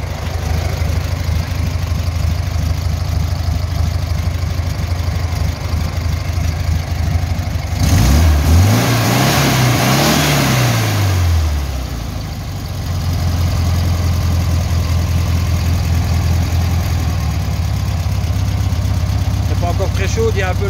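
Small model engine, a Cox with a rough-running fault, started without throttle and idling: a steady loud drone throughout, with a brief surge and rising-falling pitch mid-clip, then settling back to an even idle.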